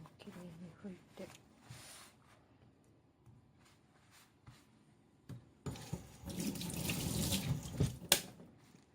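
Kitchen tap water runs into a sink while fish is washed. The clip starts with faint handling noises, then the rushing, splashing stream rises loudly and close in the second half.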